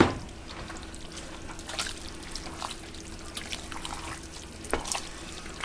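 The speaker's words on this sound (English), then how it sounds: "And then we have our 4 cups of chicken stock." Four cups of chicken stock pour steadily into a soup pot for stuffed cabbage soup, a soft continuous trickling stream lasting several seconds with a brief splashier burst near the end.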